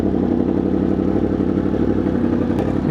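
Superbike engine running steadily at close range as a ride gets underway, a continuous dense mechanical drone with clatter and whir throughout, no talking.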